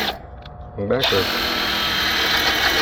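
A power drill bores into an air conditioning condenser unit near new coils, a steady close whine running after a brief start, with a voice speaking over the opening.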